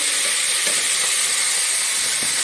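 A ground paste of onion, tomato and green chili sizzles steadily in a hot pan, a loud continuous hiss with faint stirring scrapes beneath, no talking.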